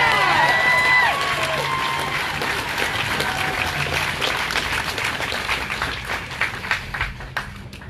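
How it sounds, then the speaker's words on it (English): Crowd at a Black Lives Matter rally in Maumee, Ohio clapping and cheering, a dense burst of applause with whistles and shouts that gradually thins into scattered claps. "Yeah, you can clap that up. Clap it up with those hands."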